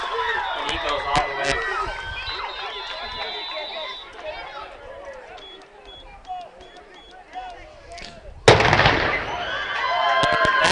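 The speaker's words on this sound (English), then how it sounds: "That another cannon sounding off for Bennett on that return, untouched." Cannon fired at a high school football game after a kickoff-return touchdown, a single loud, sharp boom late in the clip amid crowd cheering and an announcer talking.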